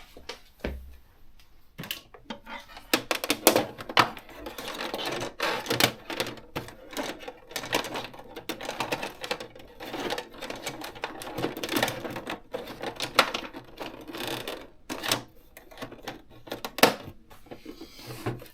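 An Olympia electronic typewriter types in quick irregular bursts of sharp clacking keystrokes, close and dry, with short pauses between runs of keys and a faint motorized hum beneath.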